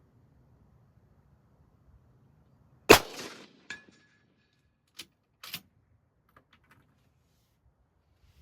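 A single sharp rifle shot firing Hornady 165 gr CX ammunition cracks loudly outdoors, followed by a brief echo and a few faint clicks and clanks afterward.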